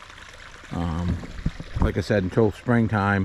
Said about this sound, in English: 12 to 14 inch culvert in there that's running all it can run out the other side